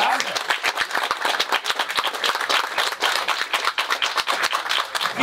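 An audience applauds at an outdoor regional political party festival in Brittany, a dense burst of many hands clapping steadily and loudly throughout, with sharp individual claps standing out near the microphone.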